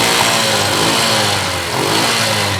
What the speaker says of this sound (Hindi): ये बाइक कहीं से भी मिसिंग नहीं कर रही